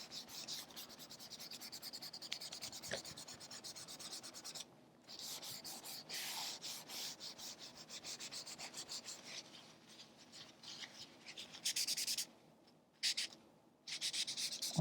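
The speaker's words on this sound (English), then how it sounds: "I'm just going to rub this all in." Kleenex tissue rubbing pastel into a pigeon drawing on paper, a close, steady soft scrubbing with brief pauses and a few short bursts of harder rubbing.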